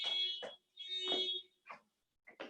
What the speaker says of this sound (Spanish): La alarma de un automóvil se activó